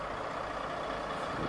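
A heavy truck engine rumbles steadily nearby, a low continuous drone with faint mechanical noise, no voices.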